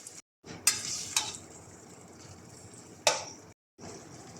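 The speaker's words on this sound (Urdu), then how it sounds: "دہی کو لو فلیم پر بھونیں گے ٹماٹروں کے ساتھ" Yogurt and softened tomatoes frying in a pan on a low flame for chana dal pulao, a soft steady sizzle with a few clinks of a spoon stirring against the pot and short pauses.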